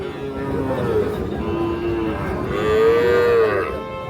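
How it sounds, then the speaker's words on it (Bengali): A Sahiwal bull calf, roughly seven to eight months old, moos at a busy cattle market: lower calls first, then one long, loud, drawn-out moo near the end over a steady crowd murmur. "এই পাশে দেখা দেখি চলছে একটা শাহিওয়াল ষাঁড় বাচ্চা।"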